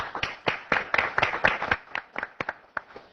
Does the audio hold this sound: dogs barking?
no